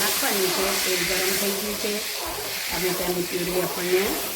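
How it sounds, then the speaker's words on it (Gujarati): Tomato puree hits hot oil in a pan, giving a steady loud hiss and sizzle that runs throughout, with a voice talking over it. "હવે આપણે એમાં નાખીશું ટામેટાની આ ગ્રેવી આપણને નાખવાની છે તેલ ગરમ થઈ ગયું છે"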